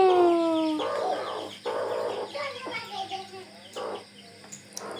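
A hill rooster calls up close: a short harmonic crow opens, followed by several harsh, clucking bursts and scattered squawks over a faint background hum.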